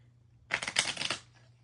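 A deck of cards being shuffled in a short, brisk riffle of rapid papery flutters that rises and fades within about a second, close and alone with no talking.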